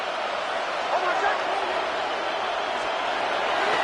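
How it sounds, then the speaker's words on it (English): Stadium crowd in a Madden football video game, a steady, even roar of cheering fans late in the game, continuous and moderately loud for the whole few seconds. "This crowd doing all they can."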